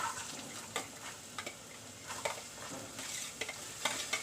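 Chillies and chopped vegetables frying in a pan for a breakfast dish, a steady close sizzle with irregular scraping stir clicks throughout.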